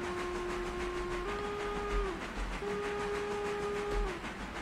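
A steam locomotive whistle in the railway simulator game Railroader, a tank engine, sounds two long steady blasts with a short break between them, loud over a constant low rumble of the engine and track.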